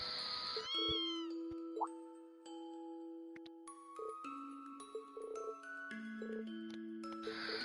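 A kitten meowing in the game Trails of Cold Steel, short high mews near the start set against sustained chiming musical tones and soft bell-like notes, with no talking.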